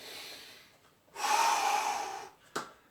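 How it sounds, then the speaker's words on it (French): Deep breathing during a fitness warm-up: one long, heavy exhale after a quiet stretch, then a short, sharp intake of breath, close and clear with no talking. "faites des grandes respirations"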